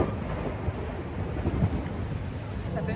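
A thunderstorm with steady rain falling around a sailboat at anchor, a dense continuous wash of rain with low rumbling thunder rolling underneath.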